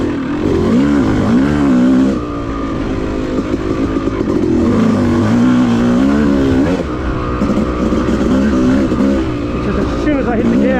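A Yamaha YZ250 two-stroke dirt bike roars loud and close while riding a wooded OHV trail, its revs rising and falling steadily as the throttle is worked, under someone talking throughout.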